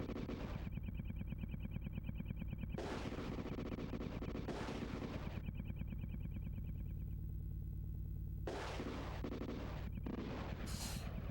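Repeated tank cannon and machine-gun fire from the Super Battletank 2 game on SNES, bursts of sharp blasts in clusters over a steady droning engine hum, with no talk.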